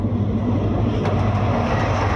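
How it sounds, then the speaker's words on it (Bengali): An express train arriving at a railway station, a loud, steady low rumble of wheels and cars passing close by with no voices over it. "ট্রেন কিন্তু আসতেছে, দেখতে পারতেছেন কি দ্রুত গতিতে ট্রেনটা আসতেছে।"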